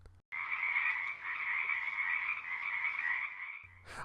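A steady, dense chorus of frogs croaking in a pond holds for several seconds, loud and continuous, beginning and ending abruptly.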